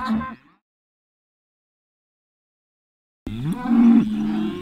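A cow on a beef cattle farm tour lets out a loud, close moo. A second deep, drawn-out moo follows after several seconds of silence.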